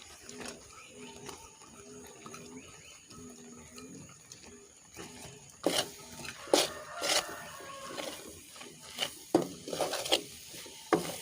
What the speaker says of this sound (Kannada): ಇವಾಗ ಇದನ್ನು ಬೆಲ್ಲದ ಪಾಕ ಹಾಕಿ ಸೇರಿಸಿಕೊಳ್ತಿದ್ದೇನೆ